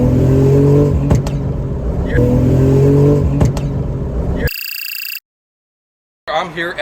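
A 710 hp Ferrari F8 Tributo rumbles close by, its exhaust cracking out a few sharp, gunshot-like pops over the engine drone. An electronic beep and a short silence follow, then a voice is heard.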